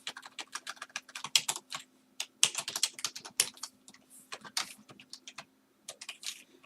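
Rapid bursts of keystrokes on a computer keyboard while entering values into an Excel spreadsheet, irregular clusters of close, crisp taps with short pauses between, alone without talk.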